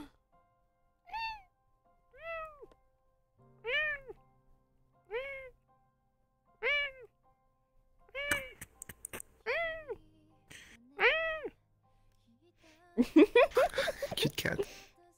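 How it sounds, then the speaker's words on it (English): A cat meows repeatedly, about nine short rising-falling calls spaced a second or so apart, close and clear, with a voice speaking briefly among them and a burst of noisy talk at the end. "Cute cat."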